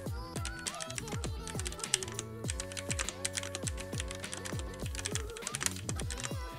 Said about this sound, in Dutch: De MX Red switches zijn lineair en stil, wat ze ideaal maakt voor snelle gaming en typen zonder veel geluid.